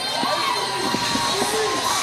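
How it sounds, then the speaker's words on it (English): A Dublin crowd at a Cage Warriors MMA event cheers and shouts loudly, a dense roar with individual yells standing out. "a clearly emotionally drained Morgane Delagnau getting a round of applause from this Dublin crowd"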